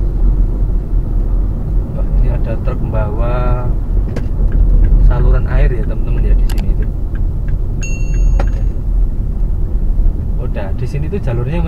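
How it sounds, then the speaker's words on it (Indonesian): A truck carrying water pipes drives past on a narrow road out of Ponorogo, a loud continuous engine and tire rumble close by, with someone talking over it. "ini ada truk membawa saluran air ya"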